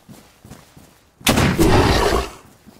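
A single heavy gunshot from a weapon in the survival video game DayZ booms out loud and close, followed by a broad roar of echo and rumble that fades over about a second. Soft, indistinct noises come before it.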